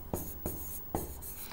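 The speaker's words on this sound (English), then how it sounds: "we write down the area of the rectangle" A pen writing by hand on paper, close and quiet, with short scratchy strokes and a few sharper taps as the tip touches down, in a steady, irregular rhythm.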